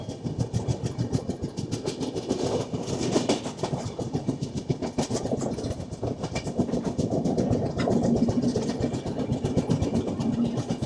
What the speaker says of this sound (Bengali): তো যতটা সম্ভব তোমাদেরকে ট্রেন জার্নিগুলো দেখানোর চেষ্টা করছি এখন